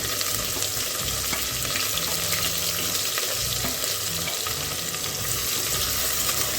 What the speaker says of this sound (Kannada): ಈಗ ಕಟ್ ಮಾಡ್ಕೊಂಡಿರೋ ಒಂದು ನೀರುಳ್ಳಿ ಹಾಕ್ಕೊಳ್ಳೋಣ ಹೀಗೆ ಉದ್ದ ಕಟ್ ಮಾಡ್ಕೊಂಡಿರೋದು